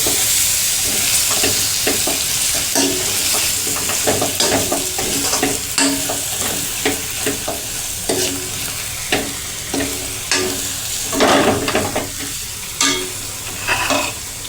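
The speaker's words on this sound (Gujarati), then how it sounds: "1 થી 2 મિનિટ માટે મરચાંને પાકવા દેવાનું" Chilies sizzle hard in a hot pan while a spoon stirs them in quick, repeated scraping strokes. The rhythmic clatter rides on top of a constant close frying hiss.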